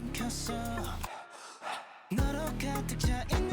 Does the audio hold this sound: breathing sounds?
yes